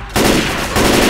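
Rapid automatic gunfire in the zombie shooter Left 4 Dead 2, loud, dense and continuous, with a short gap and then a fresh burst.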